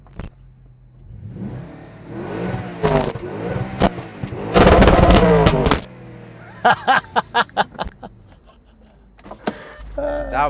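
Audi RS5 with a V8 engine revving, heard close up at the exhaust tip: a rising swell of engine roar peaking loudly mid-clip, then a series of sharp, quick blips, ending in low idle rumble.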